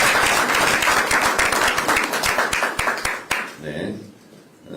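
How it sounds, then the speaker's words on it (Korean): Crowd applause at a Korean political party rally, a loud sustained burst of many hands clapping that tapers off quickly, followed by a moment of speech. "박수 한번 해주시기 바랍니다"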